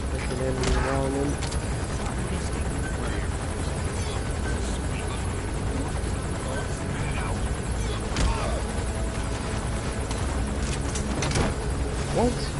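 Helicopter hovering in the video game Metal Gear Solid 5, a steady rotor drone with engine rumble running throughout, loud and close, mixed with game effects and a voice talking over it.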